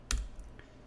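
A command typed into a terminal on a computer keyboard: a quick, crisp keystroke followed by a fainter second click, close and quiet.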